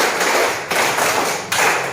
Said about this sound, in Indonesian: Itu tepuk 1, tepuk 2, tepuk 3, tepuk 4, tepuk 5 kali kayak musik ya.